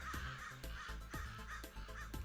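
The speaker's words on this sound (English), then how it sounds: "That's a lot of crows, make a lot of noise." Crows in a modded Minecraft game caw over and over in a regular rhythm, about four or five harsh calls in quick succession, loud and close over a low background hum.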